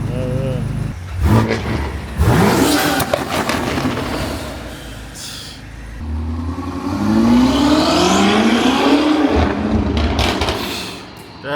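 A BMW car engine revs up loudly with rising and falling whine, close by, while people talk over it.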